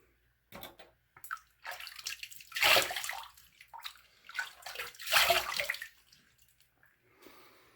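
Tap water running and splashing while rinsing off after a shave with a vintage 1964 Gillette Slim razor, close uneven gushes that swell and fade in bursts with quiet gaps, no talk.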